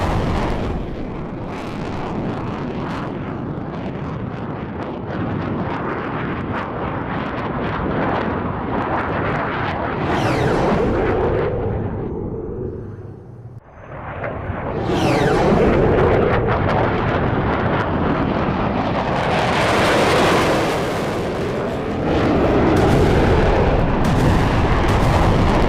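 Explosions from a Russian air strike on a Ukrainian military post, with air-to-surface missiles fired from an Su-25 jet. Loud, continuous rumbling blasts fill the whole stretch, dropping briefly midway before the roar swells again.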